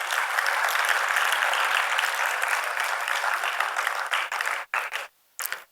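Students in a school assembly hall applaud their classmates with a sustained burst of clapping that breaks off near the end into a few scattered claps.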